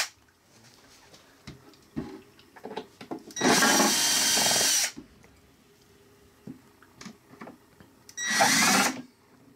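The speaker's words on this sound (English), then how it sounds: "It's screwed in, so he's unscrewing that." A power screwdriver backs screws out of a pinball machine topper in two loud, sustained whirring bursts, with quieter handling clicks and knocks between them.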